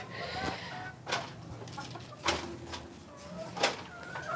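A Misri hen in a battery cage at a home in Karachi clucks in short, separate bursts, about four calls spread out over a low background.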